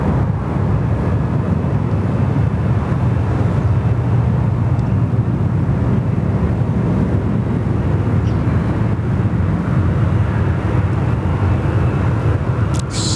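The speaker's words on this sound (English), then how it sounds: "So another Rexy on finals here for runway right" A Rex airliner on final approach at Sydney Airport produces a continuous low engine roar and rumble, heard from a distance and steady for the whole stretch, with wind buffeting the microphone and no talking.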